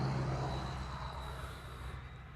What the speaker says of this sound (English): I believe it's a Spitfire and a Hurricane and a Lancaster.